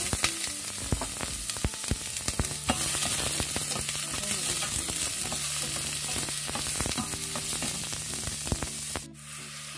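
Garlic and onion fry in a pan for a soup of leeks, zucchini and potato, a steady close sizzle broken by frequent scraping stirs and clicks, quieting briefly near the end.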